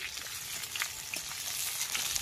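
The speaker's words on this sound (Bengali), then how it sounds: "মাছ ভাজা হচ্ছে।" Fish frying in a pan gives a steady, dense sizzle with scattered crackles and pops, close and fairly loud throughout, with no voices.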